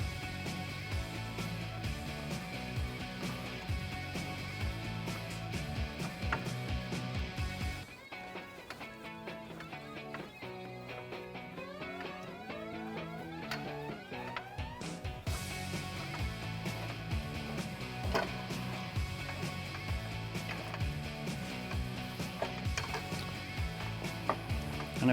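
A pole jack lowering a car's suspension control arm during a coil-over install on a Dodge Challenger, steady mechanical clicking and whirring gear noise throughout, with a quieter stretch in the middle.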